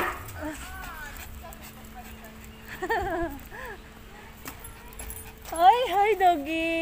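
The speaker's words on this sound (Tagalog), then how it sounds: "Nakatakot yung aso ni ate." Excited dogs near a beach and park whine and yip in short bursts, several high whimpers rising and falling, with people talking faintly in the background.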